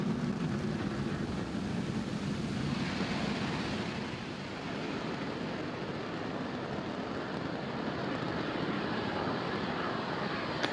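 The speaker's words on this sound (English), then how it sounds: "Falcon 9 has successfully lifted off from Space Launch Complex 40 at Cape Canaveral Space Force Station" A SpaceX Falcon 9 rocket climbs away from Space Launch Complex 40 at Cape Canaveral Space Force Station with a steady, distant broadband roar that stays fairly even throughout.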